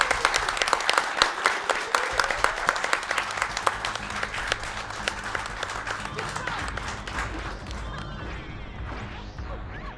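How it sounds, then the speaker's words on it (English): An audience claps and cheers for a player, a dense burst of many hands clapping with sharp cracks that holds steady for several seconds before gradually thinning out. "Let's get some applause for Kyos"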